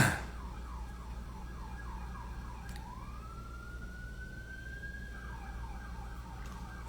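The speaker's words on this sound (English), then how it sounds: "These sirens. Is it another fire?" An emergency vehicle siren wails at a distance, cycling through rising and falling yelps and then a long sweeping tone, steady and faint over a low background rumble.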